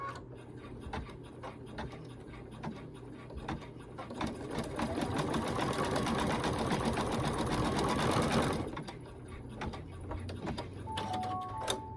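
A home embroidery machine stitches a ghost design in a steady, fast mechanical whir with rapid ticking, and a faint rubbing noise rises louder through the middle of the run before the stitching settles back down.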